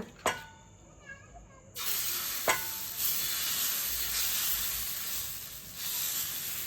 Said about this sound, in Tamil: நவதானியா அடை ஊற்றிக்கலாங்க தோசைக்கல் சூடாக இருக்குங்க